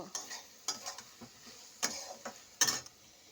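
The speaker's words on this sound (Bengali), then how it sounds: "ঢাকনাটা তুলিয়ে একটু নেড়ে জল দিয়ে দেব।" A lid clanks and a spoon stirs food in a pot, several separate scraping knocks over a quiet background, close and fairly soft.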